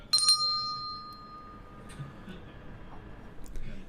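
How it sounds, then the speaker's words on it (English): A small handheld bell rings twice in quick succession at the very start, bright and close, then fades over quiet room tone with faint movement. "I have a special bell."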